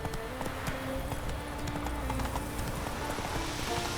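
Roach the horse clip-clops along at a steady trot in The Witcher 3, hoofbeats close and continuous over a dense bed of ambient game sound.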